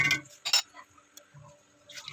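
Water is poured into a cooking pot while making tinolang manok (chicken soup), with brief splashes and clinks of the pot, fairly close and faint, no talking.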